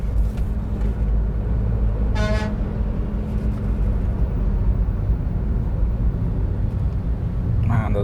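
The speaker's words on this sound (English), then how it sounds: "there's a lot of traffic." Heavy road traffic heard from inside a Nissan Micra CVT, a steady low engine and road rumble with a couple of car horns honking outside, one mid-clip and another near the end.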